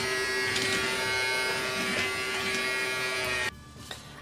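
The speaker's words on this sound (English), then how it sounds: "And if you can hear that, that's the suction" A Casdon children's toy Dyson Ball vacuum cleaner runs its suction motor as a steady, close, thin whirring drone. It then cuts off abruptly near the end, and no one speaks.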